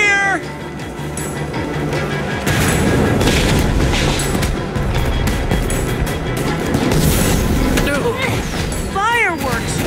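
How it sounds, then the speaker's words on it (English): Fireworks go off in Minecraft: Story Mode, Episode 4, on PC, heavy booming bursts and crackle mixed with game music, high whistling squeals and loud character voices. "Fireworks!"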